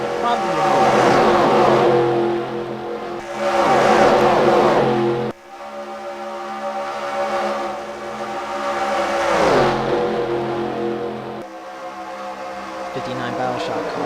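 Race car engines in a video game race at Daytona roaring and revving in waves as cars sweep past three wide, loud and continuous with rising and falling pitch.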